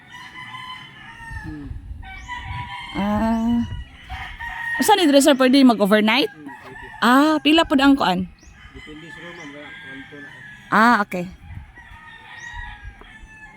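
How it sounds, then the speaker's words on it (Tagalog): Several roosters crow loudly in repeated calls around a garden cafe's cottages in Compostela, Cebu, with hens clucking between them while people talk nearby. "Pakadaghang manok."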